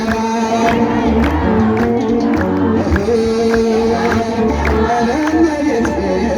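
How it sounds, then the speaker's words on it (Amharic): Large crowd at an outdoor church hymn service on Good Friday claps and ululates together, a dense continuous roar of voices and hand claps mixed with singing. "የታል ጭብጨባ የታል የታል እልልታ"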